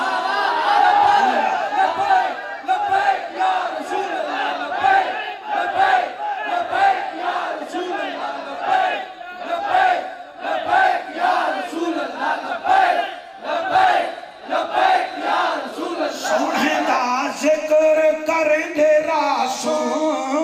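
Crowd at a religious gathering chanting Labbaik slogans in rhythmic call-and-response, loud and close, with many voices in repeated surging bursts that continue throughout.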